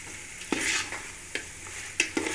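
A spoon stirs karela and onion sabzi frying in a pan, with several scraping strokes over a constant soft sizzle, heard close and with no one talking.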